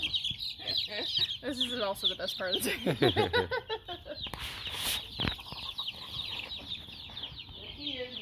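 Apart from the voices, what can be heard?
chickens clucking while being caught for the night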